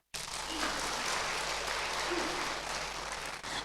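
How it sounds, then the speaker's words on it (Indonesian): An audience applauds steadily at a Buddhist teaching talk, a dense, continuous patter of many hands clapping close by for several seconds before tapering near the end. "Tepuk tangan."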